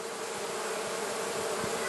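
A dense, steady swarm of honey bees drones around hive frames, a close, continuous buzz with no pauses and no voices.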